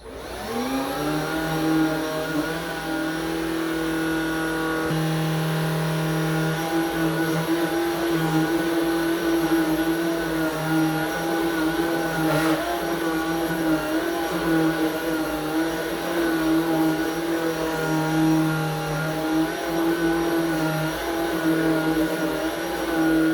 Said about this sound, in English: I'm gonna do a quick vacuum of the area.